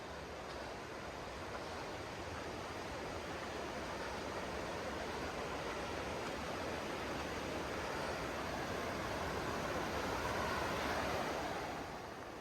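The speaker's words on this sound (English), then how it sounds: "You can hear the roar of the water" Calypso Cascades waterfall pours in a steady broadband roar, a dense continuous rush of water that swells slightly toward the end.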